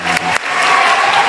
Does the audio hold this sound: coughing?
no